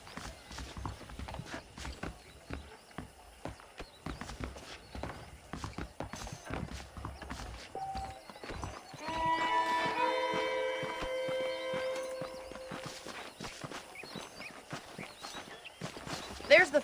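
Horse hooves in the video game Red Dead Redemption, a steady clip-clop of a walking horse with a brief whinny partway through, under a man's spoken dialogue.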